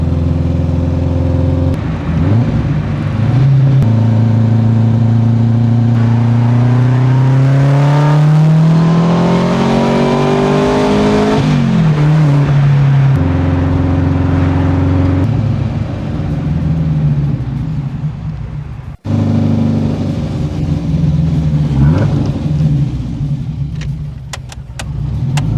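A 1983 Renault R5 Turbo 2 engine revs loudly and pulls away, climbing through gears with rising and falling whine, a short cut, then driving on close by.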